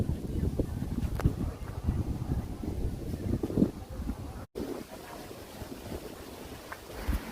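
Wind gusts steadily across the microphone beside the Padma river, a loud rumbling rush that drops briefly and then carries on more softly.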